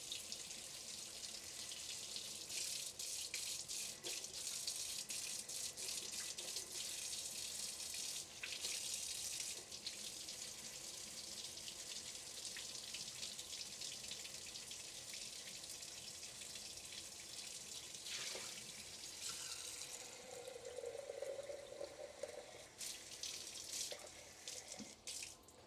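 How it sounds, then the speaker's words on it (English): Warm water runs steadily from a kitchen tap for proofing instant yeast, a continuous splashing stream into a sink that holds for most of the clip before a brief change near the end, with no talk. "Need some warm water for our instant yeast."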